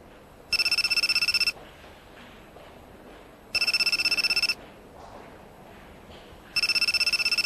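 A boss's mobile phone rings in an anime scene with a bright electronic tone, sounding in three evenly spaced one-second bursts separated by quiet gaps, with no talking over it.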